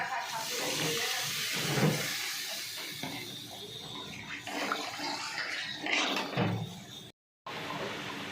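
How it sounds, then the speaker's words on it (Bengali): Water splashes onto frying spice paste in a hot pan, setting off a loud hissing sizzle that slowly settles. "এবার আমি পরিমাণ মতো জলটা ঢেলে দিচ্ছি"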